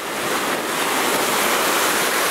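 Baltic Sea waves break and surge under strong wind, a dense, loud, continuous roar of surf and gusting air buffeting the microphone, close and unbroken with no voices.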